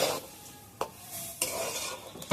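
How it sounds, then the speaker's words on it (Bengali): Rice being stirred and fried in a pot for basanti pulao, with a gentle sizzle under a few sharp scrapes and clinks of the spoon against the pot. "আমি ভালোভাবে নাড়িয়ে নিয়েছি, একটু ভাজা ভাজা করে নিয়েছি।"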